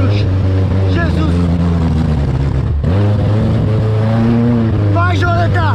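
A Chevrolet Chevette's engine strains and revs loudly while climbing a dirt trail uphill, with the pitch rising and dipping through several pulls and a brief drop near the middle. Excited voices shout over it.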